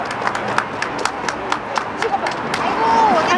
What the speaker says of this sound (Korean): 여러분 모두가 박수로 오늘 행사를 갖다가 잘 끝낸 것에 대해서 격려의 박수를 한번 부탁을 드립니다.